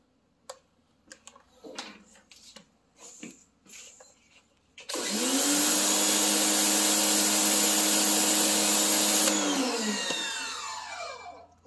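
Stihl RE 90 electric pressure washer fitted with a rotary nozzle, starting up after some light clicks and handling noises, then spraying in a loud, steady broadband rush for several seconds before shutting off and winding down.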